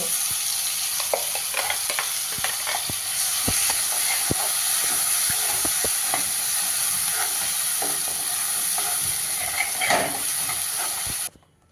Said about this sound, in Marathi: आता हा वाटलेला गोळा आपल्याला तेलामध्ये परतून घ्यायचा आहे